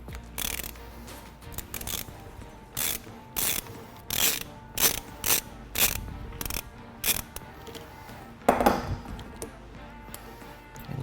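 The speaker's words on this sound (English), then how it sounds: "We're going to pinch the thinner washer with some vice grips and then rotate the bolt out of it." Vise grips turn a bolt out of a washer on a 2009-2015 Dodge Ram tailgate, a series of close clicking, ratcheting metallic bursts in an irregular rhythm.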